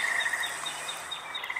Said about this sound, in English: Yes, American robin.